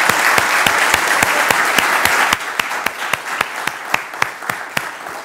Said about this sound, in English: we all owe Jakob a really big round of applause and appreciation